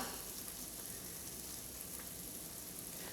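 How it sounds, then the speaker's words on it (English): Steady, faint sizzling of steak frying in a pan, a continuous crackling hiss with no talking, picked up by a laptop microphone. "You can hear the sizzling then."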